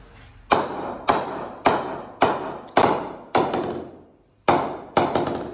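A cricket bat is struck with a hammer, giving eight sharp, ringing knocks at a steady pace with a short gap before the last three, each hit close and decaying quickly.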